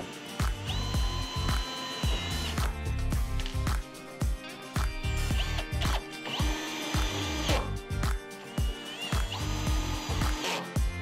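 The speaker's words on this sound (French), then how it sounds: "Les trous de vis sont pré-percés, il est donc facile de les visser." A power screwdriver drives screws into pre-drilled holes on a roof assembly, bursts of close whining motor and ratcheting clicks repeating in short runs with brief pauses between.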